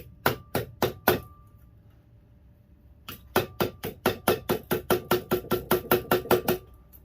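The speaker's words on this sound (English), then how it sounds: "I'm just going to whack it and feed it in" Sharp metal hammer strikes shape a sterling silver ring shank: a few spaced blows, a pause, then a quick, regular run of about a dozen ringing hits, close and crisp.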